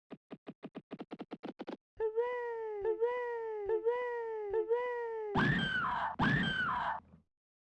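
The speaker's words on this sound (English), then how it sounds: "If you missed even a single survivor, you'd hear this haunting scream like something straight out of the Die Hard trilogy end of level screen." Two loud, drawn-out anguished screams from the PS1 game Rosco McQueen, heard when a survivor is missed, come after a run of rapid clicks and several warbling electronic tones.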